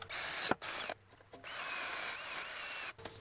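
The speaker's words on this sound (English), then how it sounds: "For that, I have a drill with a wire wheel." A power drill with a wire wheel whirs in several bursts with brief pauses between, a harsh scratchy grinding close by as it cleans threads on a 2009-2015 Honda Pilot during front strut replacement.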